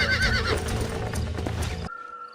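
A stallion in the Red Dead Redemption video game gives a loud, close whinny mixed with hoof clops, lasting nearly two seconds before cutting off abruptly to a faint background hum.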